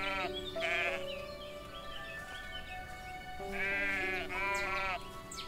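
Sheep bleat in the farming video game Everdream Valley, with two bursts of wavering, strained bleats separated by a pause, loud and close against soft ambient game tones.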